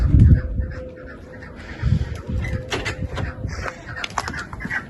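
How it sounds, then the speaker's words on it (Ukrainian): Partridges chirp and call close by in scattered bursts, with some low clucking and rustling mixed in, no talking. "Куропатки у нас цвірінькають."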